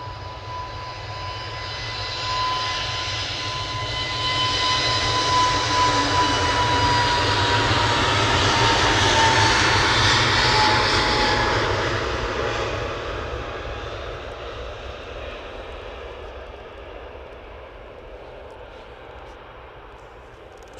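An airliner departing Manchester Airport at sunset swells from a distant rumble into a full jet roar near the middle, then gradually fades away.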